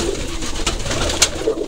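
Pigeons coo inside a loft, soft repeated calls close by over a low rustling background, with a few brief sharper flutters and no one talking.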